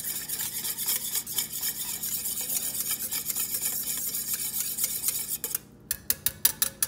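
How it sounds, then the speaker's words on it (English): A tamarind and honey glaze for baby back ribs is stirred in a pan, with soft, rhythmic scraping strokes over a gentle sizzle, ending in a few sharper taps of the spoon on the pan. "All right, so we're gonna stir that in. Work it in as best we can."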